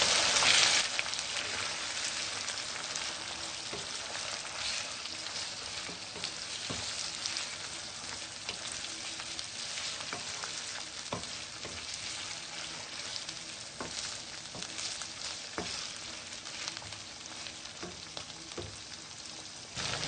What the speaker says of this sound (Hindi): अब हम इसमें चिकन डालेंगे। चिकन को भी हम हल्का गोल्डन करेंगे।